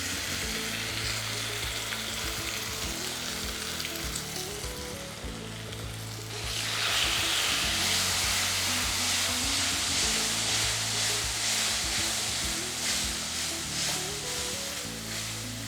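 Ground coconut, cumin, turmeric, shallot and garlic paste sautéing in a pan, a steady close sizzle that swells louder partway through, with no talk.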